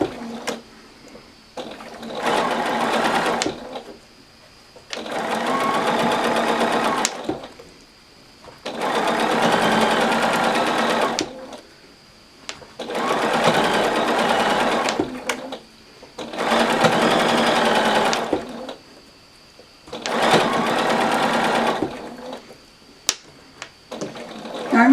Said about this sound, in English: all I have to do is pay attention to my 1/4 inch seam now on the sewing machine